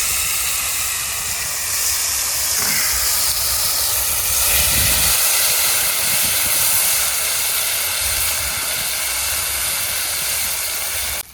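Ginger-garlic paste dropped into hot oil with dried chillies for a village-style koi fish curry, a loud, constant hissing sizzle that fills the whole stretch without pause.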